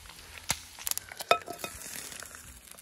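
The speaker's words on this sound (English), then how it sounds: "So I've got another stove busy here, frying bacon." Chopped bacon frying on a camp stove in the woods: light crackles and sizzling pops with a few sharp clinks of a utensil or pan, close by and with no talk.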